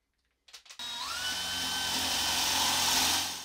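A DeWalt DCD999 cordless hammer drill bores with a 28 mm bit in first gear at about 550 rpm; after a few short starts it settles into a loud, steady whirring grind that holds for several seconds before easing off.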